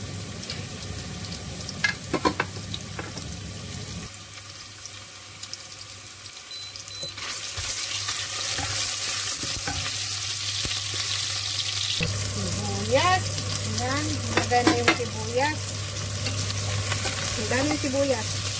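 Ginger sautés in a little oil in a pan, a continuous close sizzle with scattered stirring scrapes and occasional knocks, over a steady electrical hum, with a brief wavering tonal whine toward the end and no speech.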